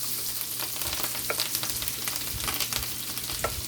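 Onion frying in melted butter in a pan gives a steady, close sizzle with faint crackles and a few stirring clicks, and no talking.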